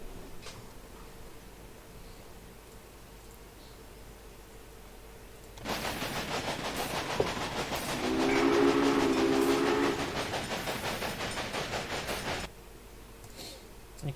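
Trains run in the video game Railway Empire, with a steady rolling rumble and rhythmic clatter that starts partway in, under a sustained horn-like tone and over quieter background game sound. There is no talking.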